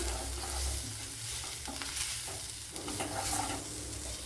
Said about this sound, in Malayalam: ഇനി പൊടി ഐറ്റങ്ങളൊക്കെ ഒന്ന് മൂപ്പിച്ചെടുക്കണം